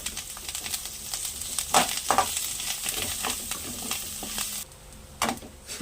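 Coriander seeds and curry leaves fry in a pan for a spice powder, a steady soft sizzle with occasional louder crackles and stirring scrapes, close by and alone.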